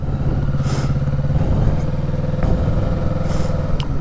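A motorcycle rolls to a clean stop under a light touch of front brake, its engine a steady close-up rumble with faint clatter and no voices.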